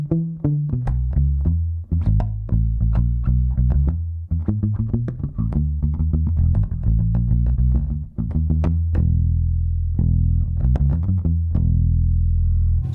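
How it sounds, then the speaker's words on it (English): Bass guitar played through a BG250 combo bass amp with the treble rolled off for a warm, Motown-style tone; a steady line of round, muffled plucked notes, close and clear, ending on a held low note. "with the treble rolled off, is best, I'd say, for maybe a Motown sound"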